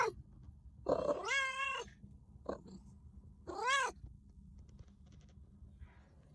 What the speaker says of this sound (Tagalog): gutom na ang ating mga pusa